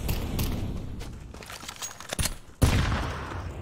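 Bursts of gunfire in a video game, a quick string of sharp shots with one heavier blast near the end, fairly faint and without talk.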